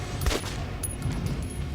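Gunfire in the video game Metro Last Light, a short burst of shots near the start followed by a quieter tail of further reports and faint mechanical clicks.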